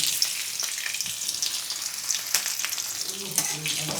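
Crushed garlic and slit green chillies sizzle in hot oil tempering for a bathua greens dish, a continuous close crackling fry with small pops and faint stirring.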